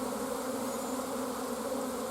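Honeybees buzz steadily around a nuc box during an install, a dense continuous hum close to the microphone with no voices.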